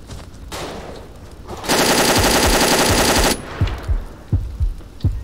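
Sustained automatic gunfire from the WW2 dinosaur video game Dino D-Day: a loud, dense burst of rapid shots lasting over a second, framed by scattered single gunshots and booms before and after.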